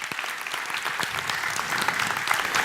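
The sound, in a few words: audience applause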